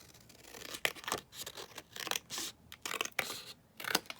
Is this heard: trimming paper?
yes